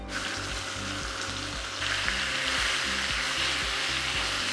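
A paste with panch phoron and peanuts frying in a pan, giving a steady close sizzle with a low rhythmic pulsing underneath that carries on without a break.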